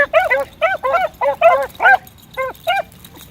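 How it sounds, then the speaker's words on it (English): Hounds bay while chasing a rabbit, a run of about eight loud, closely spaced yelping howls in an uneven rhythm. They sound fairly near and stand alone outdoors. "These slower dogs don't push that rabbit out there and make him take a great big circle."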